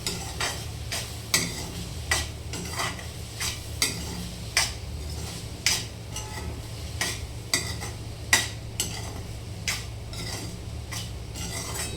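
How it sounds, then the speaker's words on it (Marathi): A spoon stirs matki (moth bean) curry in a pan, scraping in irregular, fairly close strokes roughly every half-second over a soft sizzle, with no voices. "आता आपण चांगलं मिक्स करून घेऊया"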